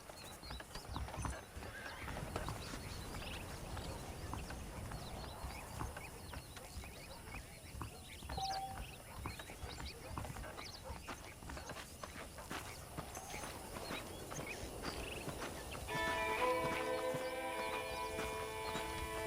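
Horse hooves clip-clopping at a walk in the Red Dead Redemption 2 video game, an even rhythm of soft thuds under ambient outdoor game sound, with a brief whinny and a musical swell near the end.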